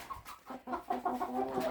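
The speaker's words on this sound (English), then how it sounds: "My chickens are in here while I'm cleaning up." Chickens in a barn stall cluck in a quick, uneven series of soft, close calls, several birds overlapping at a low level with no talk.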